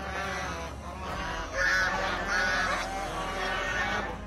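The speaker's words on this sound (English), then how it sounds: "only for you to find a group of geese at the gate," A group of geese honks repeatedly and loudly at close range, several birds calling over one another in harsh, overlapping bursts against a steady outdoor background.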